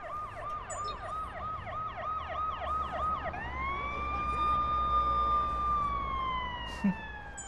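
A wailing ambulance siren in the video game Watch Dogs cycles rapidly, then shifts into a long steady rising-and-falling wail, loud and close over a background rumble.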